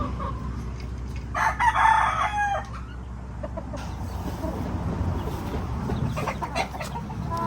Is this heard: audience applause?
no